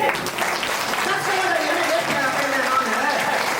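An audience at a marketing training session in Jehanabad claps in a loud, sustained burst of many hands, with scattered voices mixed into the steady clapping.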